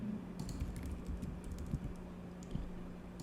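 Quiet typing on a computer keyboard while entering a project name, a soft irregular run of light key taps over a low steady hum, with no talking.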